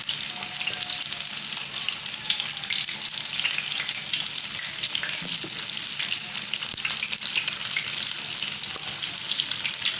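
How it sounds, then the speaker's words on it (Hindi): A single chicken leg piece fries in a kadai, giving a dense, even sizzle that holds at a steady level throughout, close and loud with no voices. "इस तरह हम एक लेग आराम से इसके अंदर फ्राई करेंगे"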